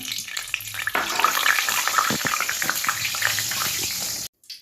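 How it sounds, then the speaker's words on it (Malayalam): Green gram roasting dry in a pan gives a dense close crackle and rattle of grains with scraping stirs, steady throughout and cutting off abruptly near the end. "കുറച്ച് ചെറുപയർ എടുത്തിട്ടുണ്ട് കേട്ടോ അത് ഒന്ന് ഞാൻ വറുത്തെടുക്കുകയാണ്"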